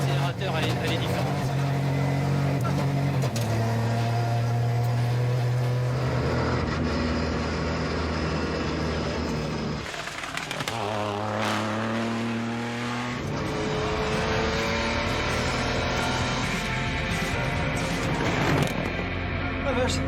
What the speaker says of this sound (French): Là, si tu es d'accord Stéphane, maintenant on va mettre le mode course.